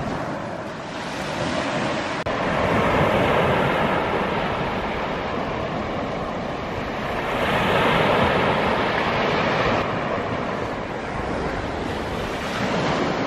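Steady broadband surf rolls along an East Yorkshire beach on a calm day, swelling and easing in gentle waves with a constant windy wash, no voices.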